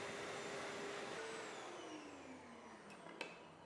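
A steady whooshing dog grooming blaster dryer on its lowest setting runs continuously at a low, even level while drying a Cockapoo, with a pitch that slowly drops and a faint click near the end.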